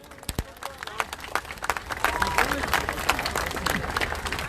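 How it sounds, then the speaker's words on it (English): An outdoor protest crowd of Kashmiris in Manchester applauds the volunteers, and scattered claps build into denser, steadier applause mixed with crowd noise and voices. "can I ask you to give them a round of applause?"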